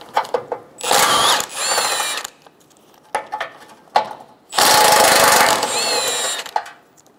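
A power tool drives out front bumper bolts on a 2012-2016 Subaru Impreza, two loud close whirring bursts with rising pitch, separated by short pauses and softer clicks.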